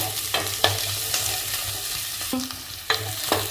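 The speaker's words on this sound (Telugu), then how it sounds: "ఇది బాగా ఫ్రై అవ్వాలి బాగా ఫ్రై అయ్యి గోల్డ్ కలర్లో వస్తే" Paneer frying and being stirred in a pan for a hotel-style dum biryani: a steady low sizzle runs throughout, with sharp scraping stir clacks every second or so, close and moderately loud, no talking.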